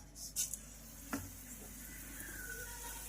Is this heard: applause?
no